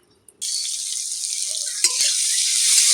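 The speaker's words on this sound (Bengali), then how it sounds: "কড়াইটা গরম হয়ে গেছে, এখন আমি কড়াইতে তেল দিয়ে দেবো চিংড়ি মাছগুলো ভেজে নেওয়ার জন্য।" Hot oil in a wok, heated for frying prawns, bursts into a loud, steady sizzle after a brief quiet moment. It keeps crackling evenly and close by, with a few faint clinks.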